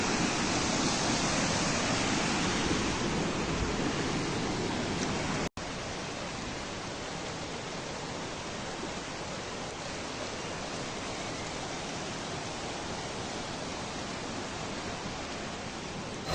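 Loud, constant roar of rushing water from a rain-fed waterfall near Pallivasal, Munnar, after a landslide, a dense broadband rush with a brief click partway through.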